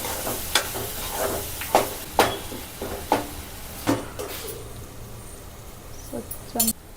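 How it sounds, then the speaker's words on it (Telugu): Garlic paste frying in a pan for a tangy tomato and sorrel-leaf curry, a steady soft sizzle under repeated sharp clinks and scrapes of a spoon stirring against the pan, fairly close, with no talking. "ఈ వెల్లుల్లి పేస్టు పచ్చివాసన పోయేంతసేపు ఫ్రై చేసుకోవాలి"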